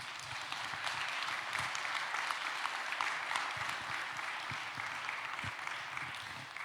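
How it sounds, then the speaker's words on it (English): An audience at an international aviation conference at Avram Iancu Cluj International Airport bursts into sustained applause, a dense, even wash of clapping from many hands that carries throughout. "Congratulations and big applause for the whole team."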